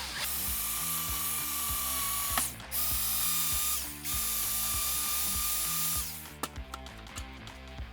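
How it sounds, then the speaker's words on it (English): A power drill with a 3/4-inch bit whirs steadily while drilling during a third-generation Toyota Tacoma cab rack install, cutting out briefly twice, then stops near the end as a few sharp clicks follow. "we're just gonna go ahead and drill this thing out"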